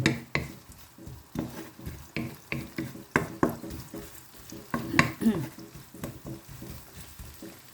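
Onion stir-fried in a pan until golden, for a Thai-style tomato and carrot spaghetti: repeated scraping stirs and soft sizzling in a steady rhythm, close by, with no talking.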